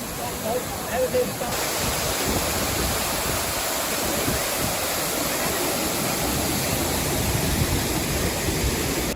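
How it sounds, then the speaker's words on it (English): Dense, steady rush of water mist spraying at a Six Flags Fiesta Texas amusement park, roaring like a waterfall, loud and continuous throughout with no pauses. "we're catching the mist. Kind of like Niagara Falls, made of the mist"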